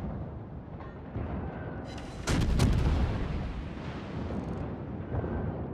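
Naval gunfire from warships in the World of Warships naval battle game, a heavy booming salvo that swells in the middle of a continuous rumbling battle din, loud and without talk.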